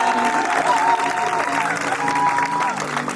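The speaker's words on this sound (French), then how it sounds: "Est-ce qu'on peut acclamer très fort le Seigneur pour cette église?" A church congregation at a conference applauds and cheers, with sustained clapping mixed with raised voices and a ringing tone running underneath.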